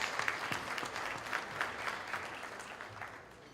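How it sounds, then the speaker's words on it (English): A round of applause from an NED-UET alumni gathering, many hands clapping in a steady roll that slowly thins and fades over a few seconds, heard from a moderate distance. "please give him a round of applause."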